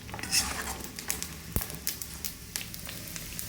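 Crisp fried beef scooped out of a hot pan into a bowl, with clattering utensil scrapes and metallic clinks against the pan over a light sizzle, close and fairly quiet.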